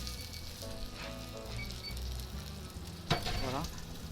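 Pineapple roasts in sizzling butter in a pan, a steady close-up frying crackle throughout, with one brief louder flare of spattering near the end.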